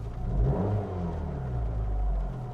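A Fiat 500 Abarth engine rumbles and gives a few short revs, heard up close with a low, throaty hum.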